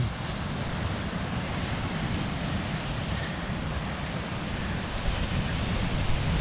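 Ocean waves wash steadily onto a beach in Maine, a continuous broad rush mixed with heavy low wind rumble across the microphone, with no clear breaks between swells.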